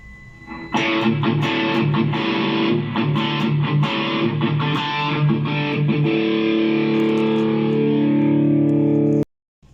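Electric guitar played through a Line6 POD X3 Live with a distortion stomp effect, a Plexi 45 amp model and a treadplate cabinet: loud, saturated picked notes and chords that ring into a sustained held tone before cutting off abruptly.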